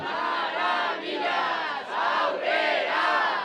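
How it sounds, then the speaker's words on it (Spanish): A crowd outside a palace cheers and shouts in support, with several rising swells of massed voices and clapping. "Los investigados entraban al palacio entre aplausos y gritos de apoyo."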